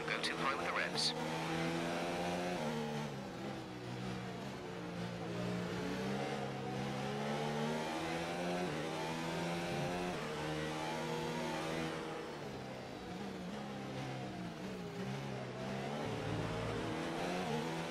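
A Formula 1 race car engine in a video game set at the Canadian Grand Prix revs and shifts, its whining pitch rising and falling repeatedly under an overlapping voice.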